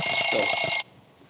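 Alarm bell rings loudly and steadily for under a second, then cuts off abruptly into near silence.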